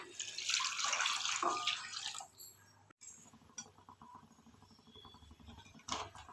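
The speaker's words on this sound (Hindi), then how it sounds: "आम पानी देदबा।" Water pours into a pan of potato curry, a loud rushing splash that runs for about two seconds and then fades into softer sizzling and bubbling, with a brief clink near the end.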